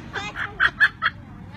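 An Amazon parrot gives a run of four or five short, honking calls in quick succession, close and loud over a low background murmur.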